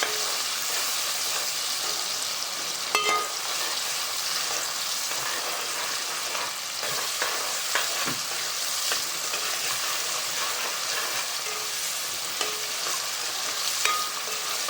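A curry mixture sizzles steadily in a pan while being stirred, with a constant hissing fry and occasional scraping clicks of the spoon, heard close and continuous with no talking.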